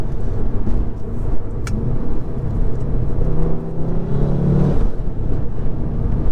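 A stage 2 tuned 2016 VW Golf R with a turbocharged 2-litre engine pulls hard under acceleration, a loud steady engine drone with one sharp crack-like pop standing out partway through.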